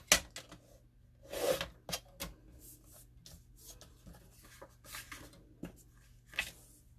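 Paper being trimmed to 4 by 3 inches for a 12x12 scrapbook layout, heard as a few close, short scraping and rubbing strokes with quiet handling noise between them.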